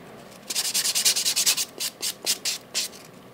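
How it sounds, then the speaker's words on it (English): A buffer rubs rapidly back and forth across an acrylic gel nail in about a dozen short, close scratchy strokes with a steady rhythm. "the only thing I'm going to be doing now is buffing this nail"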